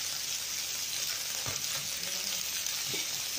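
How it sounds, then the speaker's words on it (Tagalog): Beef ribs and garlic sizzle in a hot pan, a steady close crackling fry with a few soft stirring scrapes. "Pag-browning lang natin siya."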